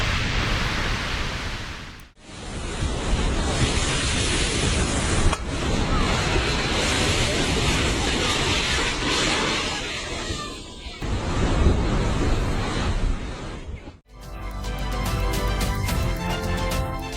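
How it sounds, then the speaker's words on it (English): Molten lava pours straight into the ocean, a loud, dense hissing roar of boiling water and steam, broken by a couple of abrupt cuts and a short stretch of harsher crackling at the end. "The sheer ferocity of nature as molten lava pours directly into the ocean."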